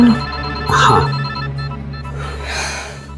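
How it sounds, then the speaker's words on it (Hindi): A telephone rings briefly with a bright electronic trill, followed by a sharp breath and quieter ringing tones. "क्या हुआ? फोन उठाओ ना।"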